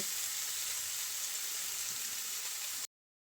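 Bitter gourd and tomato bhaji frying in a pan gives a steady, bright sizzle that holds evenly for about three seconds, then cuts off abruptly to silence.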